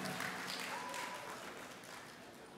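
Audience applause welcoming an honored guest onto the stage at a Sir Syed Day alumni gathering in Jeddah: fairly faint, continuous clapping that tapers slightly toward the end, with a voice briefly present underneath.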